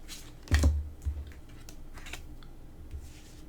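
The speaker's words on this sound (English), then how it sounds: "Alright, so I'm picking the cards" Tarot cards are picked up and handled during a reading, giving soft taps, a couple of muffled thumps and light papery shuffles, close and quiet with no talking.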